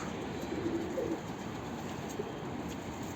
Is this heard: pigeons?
yes